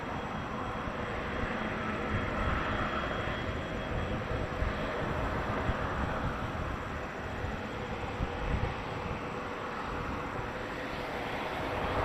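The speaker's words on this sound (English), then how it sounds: "WestJet 437 to Edmonton, 737-700." A WestJet Boeing 737-700 jet at Toronto Pearson airport gives a steady, broad engine roar at moderate distance that holds level throughout, with no voices over it.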